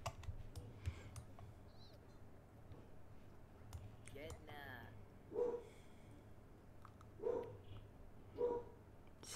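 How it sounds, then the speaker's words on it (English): A pet dog at home barks in short bursts, three distinct yaps spaced a couple of seconds apart, moderately close, over quiet room noise and faint keyboard clicking, with a brief bit of talk earlier. "Sorry about the barking."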